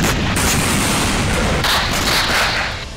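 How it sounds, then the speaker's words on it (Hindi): A massive wartime blast at a dam in Ukraine roars as one loud, continuous broadband rumble and crackle, sustained and dense for the whole stretch without any voices. "जबरदस्त धमाके के बाद ऊंची लपटें उठती हैं और चिंगारियां नजर आती हैं।"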